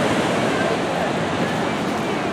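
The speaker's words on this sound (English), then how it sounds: "this is the St. Augustine Beach, and these are the beach people" Surf rolls in on St. Augustine Beach, Florida, a loud continuous wash of breaking waves mixed with wind buffeting the microphone.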